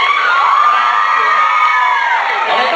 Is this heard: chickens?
no